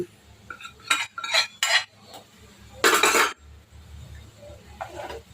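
Cooked lentils and cabbage scraped and poured from a vessel into a pot for sambar, a few bright metallic clanks and scrapes of utensil on metal, one longer clattering burst, close and fairly loud with no talking.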